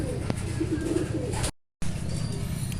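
Racing pigeons coo in a low, repeated murmur close by, steady amid a busy loft background with a brief dropout midway.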